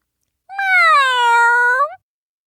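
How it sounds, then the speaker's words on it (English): A single drawn-out cat meow, close and clear, rising slightly at the end and lasting about one and a half seconds against silence. ""Meow," she demanded."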